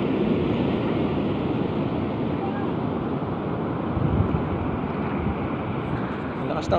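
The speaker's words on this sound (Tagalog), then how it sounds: "Ang lakas ng alon dun oh." Ocean surf at a white sand beach in Bolinao, Pangasinan, Philippines, roars in a continuous wash of noise, with gusty wind buffeting the microphone and faint voices nearby.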